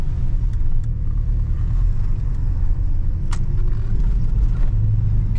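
A lowered 1985 Chevrolet C10 short-wheelbase pickup drives along, its engine and road noise forming a steady, deep rumble with a few light clicks and rattles over the top.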